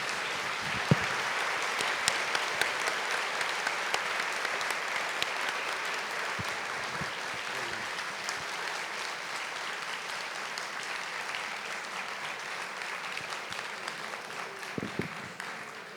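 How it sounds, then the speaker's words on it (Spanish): Sustained audience applause after a talk at a literary festival in Jericó, a long even wash of many hands clapping at moderate distance, with occasional louder claps and faint voices underneath. "yo quisiera despedirlo con un aplauso bien"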